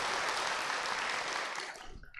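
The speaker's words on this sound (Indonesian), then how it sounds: "Kita beli tepuk tangan dulu buat Pak Andri." An audience claps for a speaker at a motivational talk in Indonesia, a dense burst of many hands that thins and fades over about two seconds.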